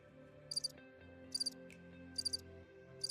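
A soundboard button plays a cricket-chirping effect: short, high, bright chirps in triplet clusters repeating at a steady rhythm over a soft background hum.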